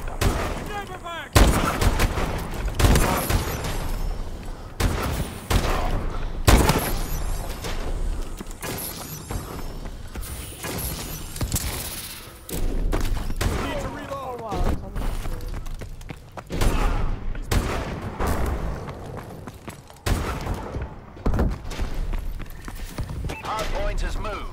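Video game gunfire with sniper shots cracks repeatedly in irregular bursts through a busy, noisy battle mix, while a player and in-game announcer voices talk over much of it.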